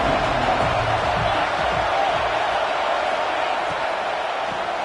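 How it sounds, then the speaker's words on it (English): Steady, dense stadium crowd roar at a Georgia vs Texas college football game, a continuous loud wash of noise throughout with no single voice standing out. "This crowd trying to make life miserable for this offense."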